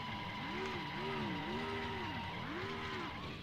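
Simulated race-car engine in NASCAR Thunder 2000 spinning around, a synthetic droning engine note rising and falling in repeated arcs, steady and fairly quiet, alone without talk.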